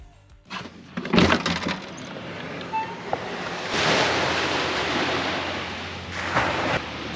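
Ocean waves at Playa El Tecolote beach in Baja, Mexico, surge and break in a few rolling swells amid gusty wind noise, with no voices present.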